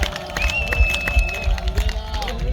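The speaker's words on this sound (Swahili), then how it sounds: "Watu wote tupige makofi na vigelegele." A church congregation at a pastor's installation claps and ululates together. Long high trilling cries ride over dense clapping and crowd noise, close and lively throughout.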